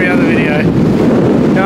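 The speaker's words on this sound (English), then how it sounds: "I don't think this is the best day to come because it's so windy." Strong wind buffets the microphone on Granite Island, a loud, constant low roar through the whole stretch, with a faint tonal whine coming and going.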